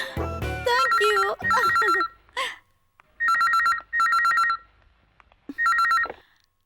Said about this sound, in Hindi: Bharat, phone for you.